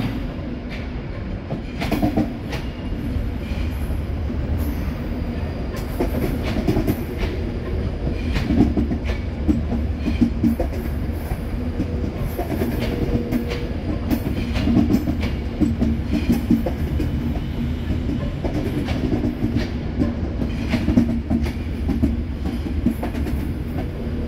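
LNR Class 350 train running on rails between Birmingham and Wolverhampton, heard on board as a steady low rumble with rhythmic clickety-clack and occasional faint wheel squeal, continuous and fairly loud throughout.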